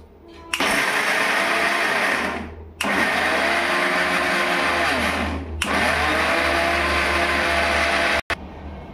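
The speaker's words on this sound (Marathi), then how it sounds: "हे डाळ बारीक करायला घेते, थोडी थोडी टाकायची, जास्त टाकल्यावर ते मिक्सरचा भांडा बारीक आहे ना" A kitchen mixer grinder grinds lentils (dal) for puran poli in three loud, steady motor bursts. Each run drones at full power, then cuts out sharply with brief gaps between. No voices are heard.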